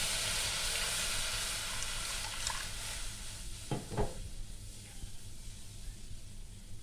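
A little water heating in a wok to make sugar syrup gives a soft, steady hiss that slowly fades, with a couple of brief metallic knocks partway through.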